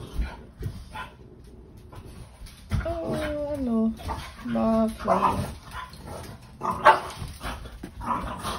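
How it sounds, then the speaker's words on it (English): Several dogs bark, yip and whimper inside a house, with sharp bursts and whining pitched tones coming and going near and loud, mixed with a person talking quietly throughout. "Excuse the dogs as usual."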